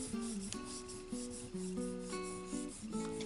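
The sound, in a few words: eraser rubbing out colored pencil on paper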